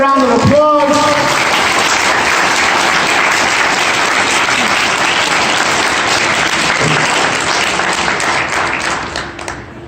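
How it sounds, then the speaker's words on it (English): Loud, sustained applause from an audience at a shopping mall menorah lighting fills the space evenly, with a brief voice right at the start before the clapping takes over and slowly tapers near the end. "Please give a round of applause."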